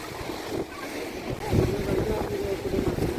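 A fishing boat arrives at Kovalam beach near Chennai, its low engine rumble blending with breaking waves and wind in a steady, fairly loud wash of sound.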